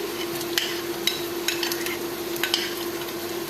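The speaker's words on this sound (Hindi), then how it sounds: "प्याज को हमने बस लाइट सा सौते करना है, इसको हमने ब्राउन नहीं करना" Onions and green chilli sauté in a pan as a steady sizzle and fry, with a spoon stirring and scraping the pan in several sharp clinks. No one speaks.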